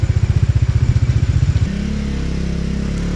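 A motorcycle engine pulses rapidly and loudly at high revs with the clutch half engaged, then settles into a smoother, higher sustained drone as the revs hold steady on a steep mountain road in Upper Mustang.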